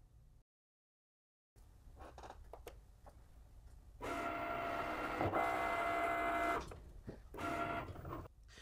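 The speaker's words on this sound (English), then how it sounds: "So now the machine is going to draw it for you." A lilac Cricut Maker cutting machine draws with a pen, giving a steady mechanical whirring and buzzing that swells louder midway through, with short motor pauses and clicks and no talking.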